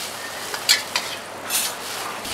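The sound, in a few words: stir-frying kuey teow noodles with garlic in a wok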